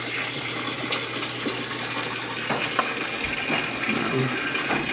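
A Maytag washer fills with water as its bleach valve is tested: a steady, moderately loud rush and gush of flowing water with faint knocks and clunks underneath.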